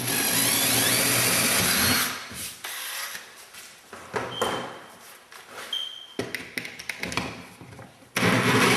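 A power drill bores a pilot hole through the plywood bottom of a cabinet, starting as a loud steady whine for two seconds, then giving way to quieter clattering and bumps before a final loud burst at the end.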